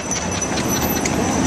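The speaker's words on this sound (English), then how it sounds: "Always horse and carriages in this neighborhood." Horse-drawn carriage hooves clopping on a downtown Chicago street at Christmas, a quick steady patter amid busy city noise.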